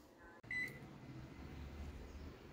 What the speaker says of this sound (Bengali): এইবার আমি মাইক্রোওভেনে এটাকে ঢুকিয়ে দিচ্ছি।